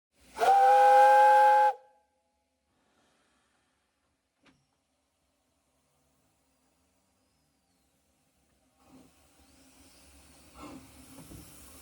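Talyllyn Railway steam locomotive No. 3 Sir Haydn gives one loud, clear whistle blast lasting about a second and a half, then near-silence, followed by a rising steam hiss and chuffing toward the end.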